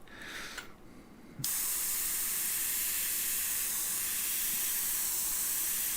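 Airbrush spraying paint, a brief hiss cut off before a sharp onset into a continuous, steady, close spray hiss that holds evenly to the end, with no talking.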